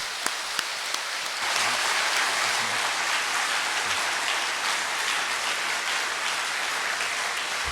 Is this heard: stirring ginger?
no